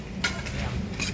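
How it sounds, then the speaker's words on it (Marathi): Potatoes and tomatoes stir-fried in a pan for masala rice cooked inside a vehicle, a brief soft sizzle with a few quick spatula scrapes, close by. "मस्त याला फ्राय करून घेऊ."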